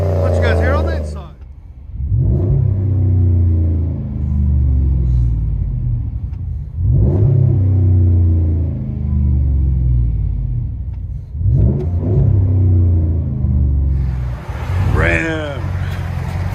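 A 2012 RAM 1500 with a 5.7L Hemi V8 and Flowmaster dual exhaust revs hard three times, each deep burble swelling and falling back, with brief talk near the start and end.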